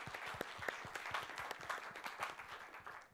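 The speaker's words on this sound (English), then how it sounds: "let's applaud." Applause from an audience at a general assembly of an inaugural congress, welcoming new committee members: steady, dense clapping from a modest crowd, fairly distant, with no talk over it.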